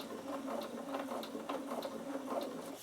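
A Bernina sewing machine stitching through leather whirs close by in quick, rhythmic needle strokes, a soft, steady mechanical chatter with no voices.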